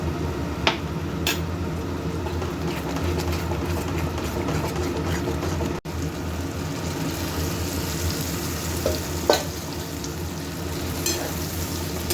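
Food fries in a pan during home cooking, a steady dense sizzle that runs without a break, with a few sharp clinks and taps from utensils standing out over it.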